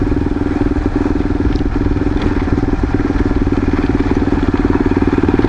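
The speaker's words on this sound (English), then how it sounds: "The old XT is just putting along here." An old Yamaha XT motorcycle single-cylinder engine putters along at a steady low rhythm, close and continuous, with a faint crackly clatter and no talk.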